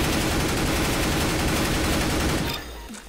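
Sustained automatic rifle spray from a gun in the CS:GO video game: a dense, loud, continuous stream of rapid shots that stops abruptly near the end, leaving a quieter tail.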